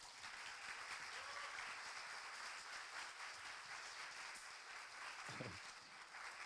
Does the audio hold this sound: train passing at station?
no